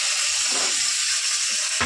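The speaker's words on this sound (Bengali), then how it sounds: "এই যে এখন যেমন ছোট ছোট মাছ ভাজা" Small fish fry in a pan with a loud, even sizzle and hiss of hot oil, broken near the end by a brief stirring scrape.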